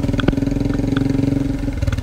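Motorcycle engine on a solo mountain ride in Uttarakhand, running close and loud with a steady, even pulsing throb and slight rises in revs throughout.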